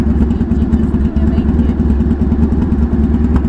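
Motorcycle engine idles close by with a loud, steady low chugging throb that continues throughout, with voices faintly present underneath.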